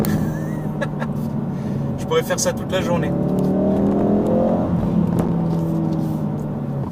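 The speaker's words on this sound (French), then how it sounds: "Ce petit retour de gaz qu'on a quand on accélère et quand on lâche l'accélérateur, c'est juste magnifique." Ford Focus exhaust crackling and popping as the engine revs and lifts off, loud and close, with a steady engine drone underneath and a person speaking over it.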